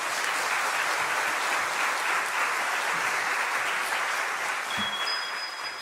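Sustained applause from a church audience welcoming a pastor to the stage, steady and dense throughout at moderate level, with a faint thud near the end.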